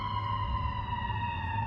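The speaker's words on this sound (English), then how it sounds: "just waiting for that siren to pass." Emergency vehicle siren sounding steadily at a distance during work on a Gen-1 KLR650 motorcycle, a sustained wailing tone over low background rumble, with no talking.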